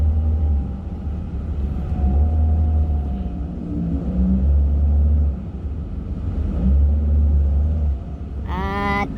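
A well-worn Toyota Avanza engine runs at a steady idle, a continuous low rumble with slight swells in intensity, close and fairly loud, with a brief tonal sound at the very end.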